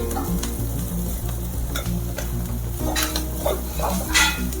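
Bitter gourd pieces fry in a pan for a masala stir-fry, giving a steady close sizzle throughout, with a spoon scraping and stirring in irregular strokes and a few sharper clinks of metal toward the end.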